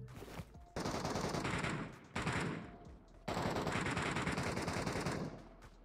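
Automatic gunfire in the mobile game PUBG Mobile, Metro Royale mode, comes in three long, loud, sustained bursts separated by brief gaps, with no talk over it.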